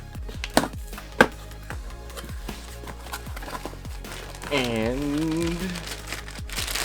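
Cardboard box holding a Subaru factory oil pump assembly being opened by hand, with sharp tearing and crinkling bursts early on, then a sustained rustle as packaging is pulled apart, all under a low room hum.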